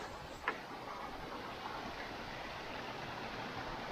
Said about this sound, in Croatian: I slapovi, tako.